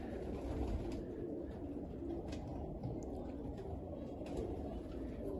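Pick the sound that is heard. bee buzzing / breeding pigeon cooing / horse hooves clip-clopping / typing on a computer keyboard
breeding pigeon cooing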